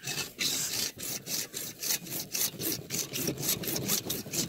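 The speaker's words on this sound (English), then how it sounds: "I'm gonna grab the old hacksaw," A hacksaw cuts a V notch into a wooden ditty pole, with steady back-and-forth rasping strokes, loud and close, in an even rhythm throughout.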